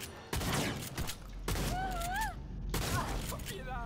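Shotgun blasts in the video game Cyberpunk 2077, a few sharp bursts spaced through a short stretch, mixed with game voices and effects.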